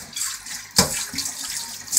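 Water running from a tap during hair washing, a steady close splashing flow with a sudden louder gush partway through, no talk.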